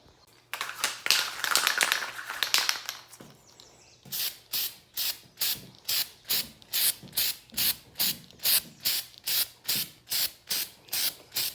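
Herculiner bed liner coating hisses from an aerosol can onto a Jeep JK tailgate, first in one long burst, then in a rapid series of short, evenly spaced sprays, close and loud.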